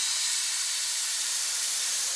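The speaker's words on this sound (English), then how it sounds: "basically I'm using the air compressor again now" Air compressor blowing a steady, loud hiss of air into a tubeless mountain bike tire during a tire change, continuous and close with no pauses or talk.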